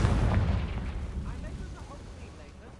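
A booming blast from a Confringo spell in a wizard game erupts loudly at the start, then rumbles and fades over a few seconds.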